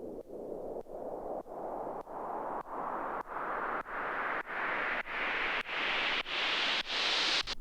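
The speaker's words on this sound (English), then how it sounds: "put a white noise oscillator there, and then just automate the frequency of the cutoff to make it rise" A white noise synth riser, made by automating a filter cutoff upward, swells steadily brighter over several seconds, chopped into a regular pulsing rhythm of short bursts, building in pitch toward the end.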